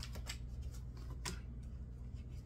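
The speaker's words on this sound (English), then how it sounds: "I'm going to shuffle these out some more." Tarot cards are shuffled quietly, soft riffling flicks and taps repeating over a low background hum.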